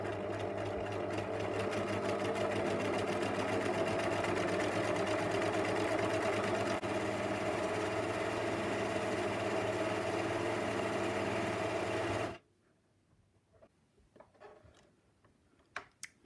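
A sewing machine stitching rows of shirring with elastic thread, a steady, close, fast mechanical whirr and rattle that runs for about twelve seconds, then stops abruptly, leaving a few faint clicks and handling sounds.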